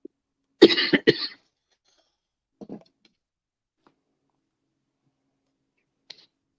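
Two harsh coughs burst out close up in quick succession, followed by near silence with a faint brief noise and a tiny click.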